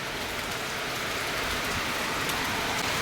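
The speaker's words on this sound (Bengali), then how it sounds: "এদিকে তো বৃষ্টি বেশ ঝমঝম করে নেমে গেছে" Rain falls hard and unbroken, a thick even roar of drops pattering on surfaces nearby, with no talking.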